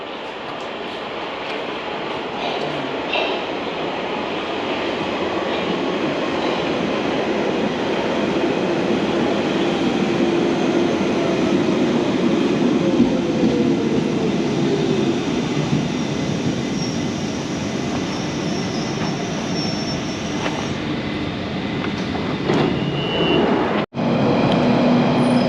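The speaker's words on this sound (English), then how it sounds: "Here's my train. I'll take this for Loughton." A London Underground train on the Epping Branch toward Loughton rumbles steadily close by, with rising motor whine, wheel noise and brief squeals throughout, and a sharp momentary dropout near the end.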